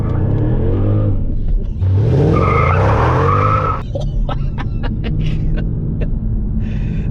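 Tires screech loudly in a burnout as a 510 bhp Mercedes CLS55 AMG engine roars and revs hard nearby, followed by a rumbling idle with sharp crackles and pops.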